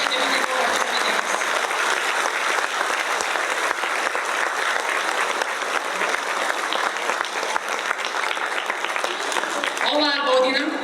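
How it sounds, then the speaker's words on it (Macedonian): Audience at a school's 61st anniversary ceremony in Struga giving long, loud, continuous applause, a dense unbroken roar of clapping with a voice emerging briefly at the end. "Ве молам еден голем аплауз за сите овие луѓе"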